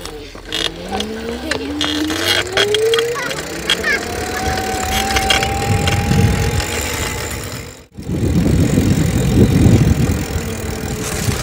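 A homemade electric bicycle driven by a hoverboard motor speeds up, its electric whine rising steadily in pitch over road and wind rumble, then briefly cuts out before rough rolling noise resumes.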